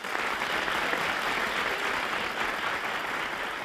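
A television game-show studio audience applauds a contestant, a steady dense wash of clapping from many hands that holds at an even level throughout, with no voices on top.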